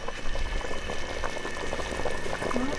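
Guyanese pepperpot bubbling steadily in a pot as it cooks down, a close, continuous simmering gurgle with no talk.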